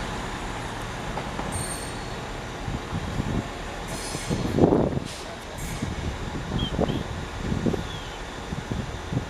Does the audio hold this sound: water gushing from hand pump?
no